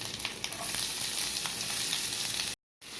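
Urad dal and mustard seeds sputter and crackle steadily in hot oil for an egg poriyal, a close, continuous sizzle with small popping bursts, cut by a brief dropout near the end.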